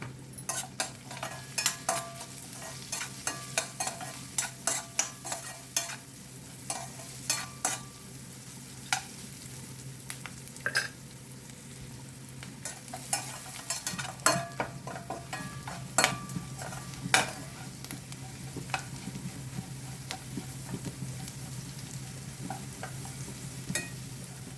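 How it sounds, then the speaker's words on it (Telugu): A spoon stirs a tempering of salt and turmeric in a frying pan for an Andhra-style chana dal and grated coconut dish, giving a steady run of light scraping clicks over a soft, continuous sizzle, with no voices. "పోపులో పావు స్పూను ఉప్పు, పావు స్పూను పసుపు వేసి మొత్తం అంతా పోపులో కలిసేటట్లు కలుపుకోవాలండి"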